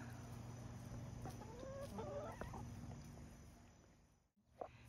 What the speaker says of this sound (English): But he's a pretty rooster.